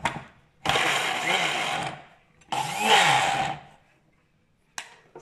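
Food processor or blender running in two bursts of a few seconds each, finely chopping herbs and seasonings for a chermoula sauce, with a brief third start at the end.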